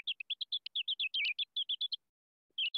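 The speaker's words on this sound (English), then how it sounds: "particularly male mice, have these ultrasonic vocalizations" Rapid series of short, high chirping syllables from a male mouse's ultrasonic courtship calls, pitched down so they resemble birdsong, fast and near, with a brief pause before a final burst.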